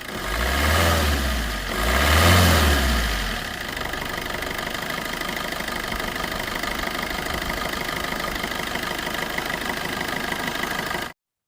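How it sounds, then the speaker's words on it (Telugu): A 2020 Swift Dzire diesel car engine is revved twice with the accelerator, two loud surging bursts near the start, then it settles into a steady, close diesel idle until it cuts off. "ఒకసారి యాక్సిలేటర్ ఇంకా ఇంకొకసారి"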